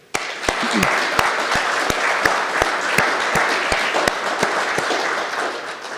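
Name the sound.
round of applause for the Freemasons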